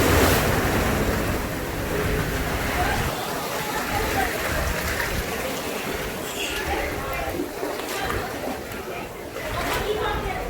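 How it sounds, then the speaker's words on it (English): Ocean waves splash and wash onto a beach on a summer day, a continuous surging roar with gusty wind buffeting the microphone and voices faint in the background. "Waves come splash in here."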